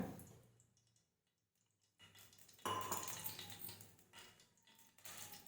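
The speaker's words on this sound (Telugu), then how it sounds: "ఆయిల్ వేస్తున్నా" After near silence, liquid hits a hot pan and a sudden crackling hiss rises, sizzling unevenly with a faint metallic clink.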